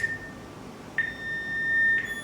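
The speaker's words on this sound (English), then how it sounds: "You hear the beep beep beep sound, right?" A one-way intercom system beeps at regular one-second intervals while recording, a thin steady tone with a soft hum underneath.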